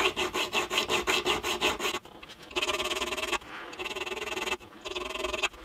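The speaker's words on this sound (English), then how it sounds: "I'm just going to take the burr off the end of the fret there using this triangular file" A triangular file rasps against the burred end of a metal fret on a vintage parlour guitar, first in quick repeated strokes, then in longer steady passes, close and fairly quiet.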